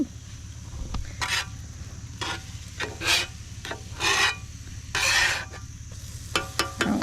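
Eggs sizzling on a camp flat top griddle, with bursts of scraping and rubbing from a spatula between them over a low steady fry.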